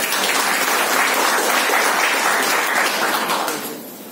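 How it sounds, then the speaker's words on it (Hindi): An audience at a distributor training session applauds loudly, dense clapping that holds steady, then fades quickly near the end. "तालियां होनी चाहिए"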